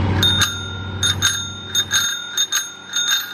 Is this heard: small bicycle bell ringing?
yes